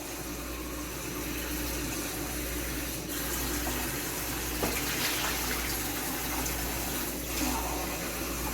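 About four cups of water poured into a roasting pan for a roast dinner, a steady close splashing and trickling stream with a constant low hum underneath.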